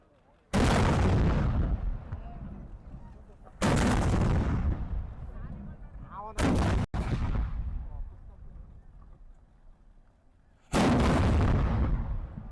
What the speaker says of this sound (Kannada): ಇವ್ರು ಫಿರಂಗಿ ಹಚ್ಚೋಕೆ ದೊಡ್ಡ ಊದ್ಬತ್ತಿ ಹಿಡ್ಕೊಂಡವ್ರೆ